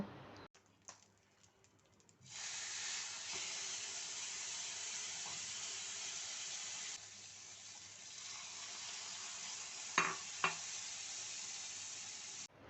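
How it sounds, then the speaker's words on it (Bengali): Bread toasts frying in butter on a tawa, a steady broad sizzle starting after a few quiet seconds and holding close and even, with a couple of brief knocks near the end and no talking. "বাটার দিয়ে আমি বাদবাকি টোস্টগুলো একসাথেই ভেজে নেব"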